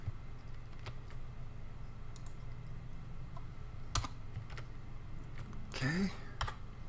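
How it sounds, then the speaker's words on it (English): Typing on a computer keyboard while editing a web page, a faint, sparse patter of key clicks scattered over quiet room noise. "you can just type this right into the editor"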